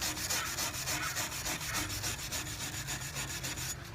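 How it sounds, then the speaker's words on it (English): Wire brush scrubbing rust and pitch from the blades of pruning shears with a little solvent, a steady rapid rasping of short strokes, close and continuous, without speech. "take a wire brush and a little bit of acetone or solvent of sorts and see if I can clean this up just a little bit"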